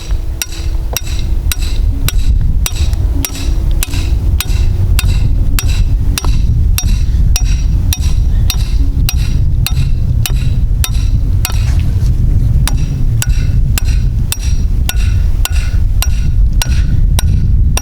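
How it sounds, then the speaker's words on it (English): A rebar trap stake is hammered into the ground for a coyote dirthole set in Ohio, with a long run of loud, close, evenly spaced metallic strikes roughly every second. "I'm just gonna drive this into the ground"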